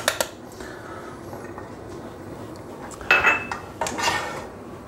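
Chopped ginger, garlic, celery and coriander tipped into a pan for a spinach and chickpea curry paste, giving a few light clinks and scrapes of utensil against metal, with a brief clattering burst midway, close and fairly quiet.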